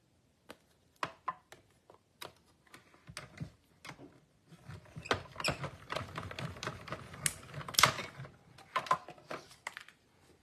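Gray cardstock being cut with a small end trimmed off for a two-fold side flip flap card, heard as a series of sharp, close snips and clicks, sparse at first and then denser and busier, with no talking.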